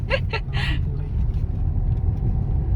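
Heavy road traffic rumbles as a steady, close engine drone, with a brief burst of chatter or horn-like sound at the start.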